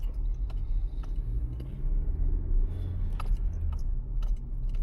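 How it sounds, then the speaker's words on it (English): A car engine runs steadily up close in a mechanic's workshop, its auxiliary belt squealing with a rough, jangly edge over a continuous low rumble. "nice squealy belt"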